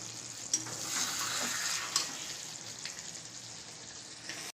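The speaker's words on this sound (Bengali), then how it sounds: "ম্যারিনেট করা মাংসগুলো বেশ ঢাকা চাপা দিয়ে অনেকক্ষণ ধরে কষাচ্ছি" Marinated meat fries and sizzles steadily in oil in a covered pan, with a constant hiss and occasional soft scrapes of stirring, near and moderately loud throughout.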